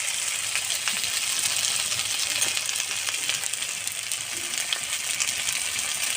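Fried potatoes tipped into a pan of deshi jiol fish curry, giving a steady, dense sizzle of hot oil that runs throughout, with faint light clinks and scraping as they settle in the pan.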